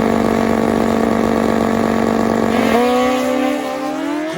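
A Kawasaki KZ drag racing motorcycle engine holds a loud, steady high-revving drone at a drag strip, then its pitch drops and sweeps back up as it shifts, near and powerful.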